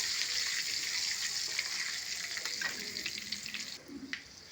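Curry leaves and garlic cloves fry in hot oil in a pan for tomato chutney, a steady close sizzle and crackle that thins out slightly toward the end.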